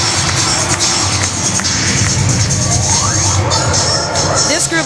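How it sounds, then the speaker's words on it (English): A large crowd at a 2005 Black college all-star national cheerleading competition roars and cheers steadily, dense noisy hubbub with shouts and cheering filling the space throughout. "This group definitely has the crowd going."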